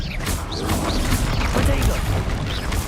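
Spell casting effects in the Hogwarts Legacy video game: dense, continuous booms, crashes and magical whooshes of combat, loud and close, with a voice calling out spell names throughout.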